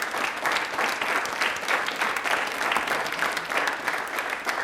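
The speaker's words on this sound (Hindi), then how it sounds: "तालियां प्लीज एक बार इनके लिए जोरों से बजा दीजिए।" A studio audience on a televised quiz show breaks into sustained, dense applause that swells in waves, with no talking over it.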